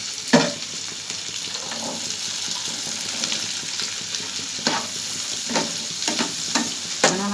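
Potatoes and onions fry in hot oil, a steady sizzle broken by several scraping stirs of a spoon against the pan, close and clear, with no talking.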